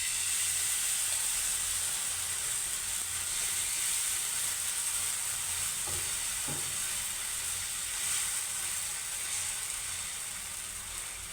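Oil and rava uttapam batter sizzle on a hot tava in a steady, close, continuous hiss with a couple of faint scraping clicks midway.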